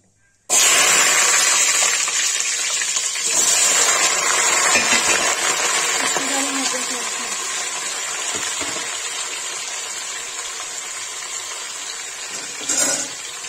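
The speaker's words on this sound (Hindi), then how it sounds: "तेल गरम हो गया, इसमें डालेंगे प्याज" Sliced onions dropped into hot oil for chicken do pyaza start a sudden loud, steady sizzle that hisses on without a break and fades a little toward the end.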